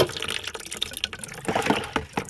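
Liquid splashes and gurgles loudly up close while a 1970s GM Chevy Blazer steering wheel is scrubbed clean with dish soap and hot water, in uneven gushes and spatters.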